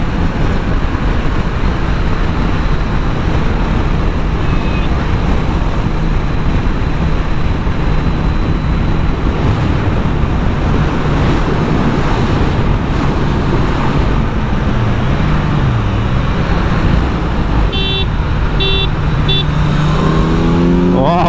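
A sport motorcycle, either a Honda CBR650R or a Kawasaki Z900, pulls hard on a highway. A steady, loud engine drone is buried under heavy wind rush for about twenty seconds. Near the end the pitch sweeps and climbs, with a couple of short beeps.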